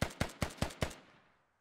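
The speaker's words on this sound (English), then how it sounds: "And they're still shooting. Everybody's shooting." Gunfire in the military shooter video game Squad: five evenly spaced loud shots in quick succession, each with a sharp crack, followed by a fading echoing tail and then quiet.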